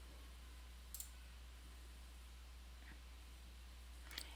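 Computer mouse clicks while saving data in a form, two faint, sharp clicks about three seconds apart over a low steady hum, no talking.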